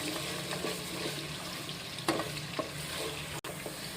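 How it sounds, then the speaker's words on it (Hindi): Oil sizzles steadily in a pan as ginger and garlic fry, with a few scraping stirs and small clatters, close by and moderately loud, no voices. "ये देखिए थोड़ा अदरक लहसुन को फ्राई कर लिया है मैंने।"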